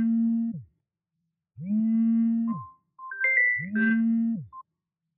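A phone rings with an incoming call that goes unanswered: three low, sustained buzzing tones separated by short gaps, with higher electronic chirps between the last two, clear and close with no voices.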